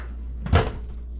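A single quick clunk of an RV microwave door opening and closing, close by, over a steady low hum.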